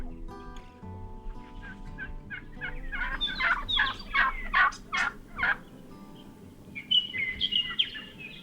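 Wild Merriam's turkeys in South Dakota gobble in a rapid run of loud, rattling calls from fairly close by, followed by a few higher yelps.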